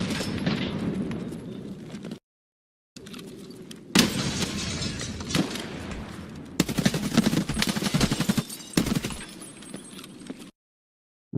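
Gunfire in the shooter game Escape From Tarkov: loud, close bursts of rapid automatic shots and single cracks, broken by brief silent gaps between bursts, with no voices.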